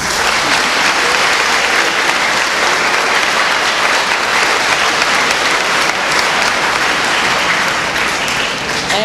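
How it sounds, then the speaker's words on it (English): Audience applause fills an 8th grade graduation ceremony: sustained, loud, dense clapping from a large crowd that continues steadily for the whole stretch with little else audible. "So if we could please give them a round of applause."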